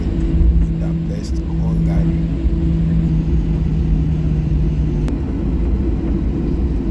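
A steady low rumble of airliner engines idling before takeoff at a Hungarian airport, with a continuous drone and hum filling the cabin, fairly loud and unbroken throughout.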